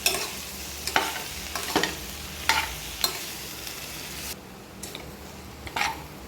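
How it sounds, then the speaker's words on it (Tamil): Boiled cassava pieces are stirred in a pan of tempering, with repeated sharp spoon scrapes and clacks at irregular intervals over a steady low sizzle, heard up close. "இப்போ கிழங்க போட்டுக்கோங்க கட் பண்ணி வச்சு வேக வச்சு அது நல்லா கிளறி விட்டுருங்க"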